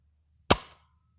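A modified Dart Zone Adventure Force Ranger blaster fires one dart with a single sharp, loud crack and a quick decaying tail, alone against quiet background.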